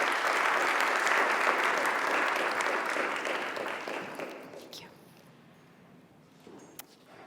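Large audience applause at a UN Foundation board meeting conference in Norway, dense and steady clapping that gradually thins and fades to near silence by the end.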